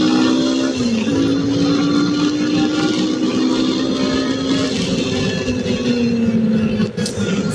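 A Yamaha FZ25 motorcycle with a 5-speed gearbox pulls hard after a downshift on a city road, its engine drone loud and close, steady with a slight pitch rise, joined near the end by a brief dip and clatter.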